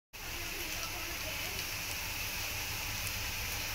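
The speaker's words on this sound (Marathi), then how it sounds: "कांदा टमाटर चांगलं तळले." Onion and tomato frying in a pan give a steady, close sizzle with a dense, rain-like crackle. It starts abruptly and holds evenly to the end, with no speech over it.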